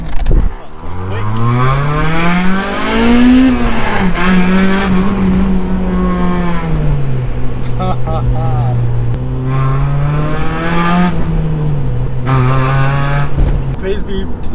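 A straight-piped Honda Civic EP3 Type R engine, loud and close from inside the cabin, revving up through long rising pulls with brief dips between gears, an occupant's voice faintly audible under the roar.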